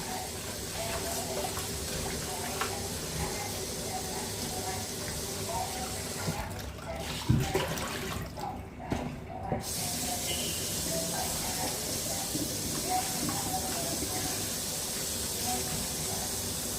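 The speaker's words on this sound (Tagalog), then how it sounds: "So hugasan na natin yung hinimay kong kangkong." Tap water runs steadily as freshly stripped kangkong (water spinach) is washed in a sink, making a continuous close hiss and splash with small shifts as the leaves are moved about.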